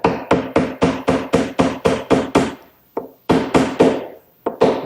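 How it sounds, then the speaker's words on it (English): Short sharp knocks of a block of wood striking a small round magnet into a drilled hole in a wooden tool chest door, about a dozen loud, evenly spaced taps close up, with a brief pause before a few more. "And I'll just tap it in with a piece of wood."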